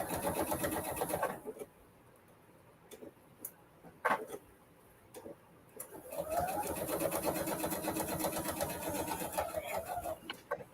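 A sewing machine quilts a charity quilt in rapid, steady stitching bursts, stopping for a quiet stretch with a few clicks before running again, close and loud.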